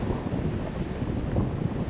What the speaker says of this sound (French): le vent, le sable qui vole par le vent